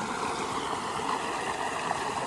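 Irrigation water from a 20 horsepower pump motor gushes into a wheat field, a steady close rushing and gurgling flow with no pauses or voices.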